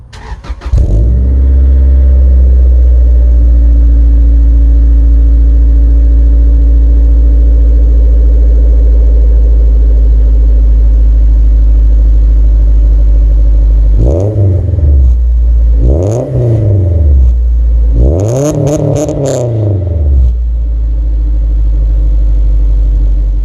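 An Acura Integra GSR with a newly fitted exhaust cranks and starts, settles into a steady loud idle, then gets three sharp blips of the throttle near the end, each revving up and dropping back to idle.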